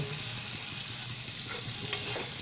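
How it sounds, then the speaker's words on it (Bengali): Papaya pieces go into hot oil with a fried spice paste, giving a steady, soft, close sizzle with light stirring and no talk. "এবার এর মধ্যে আমি পেঁপেগুলো দিয়ে দেব"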